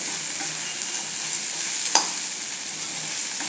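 Okra fry with gram flour and tomato being mixed in a pan, a steady close sizzle of frying with soft stirring movements and one brief clink of the utensil, no speech.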